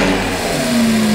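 A Lamborghini Gallardo Superleggera engine fires up close by, a loud, brief roar that settles into a steady rising drone.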